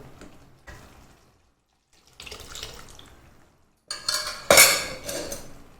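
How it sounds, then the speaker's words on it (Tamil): Water splashes and pours into a metal pot in a few short bursts, with light clinks of metal against metal, close by and fairly loud. "அதுக்கு தேவையான அளவுக்கு தண்ணியை ஊற்றிடலாம்"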